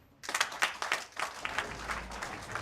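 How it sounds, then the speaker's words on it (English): Audience members at a motivational business meeting for a health-products company clap for themselves: a burst of many hands, close and lively at first, then thinning into looser, scattered clapping. "clap for yourself"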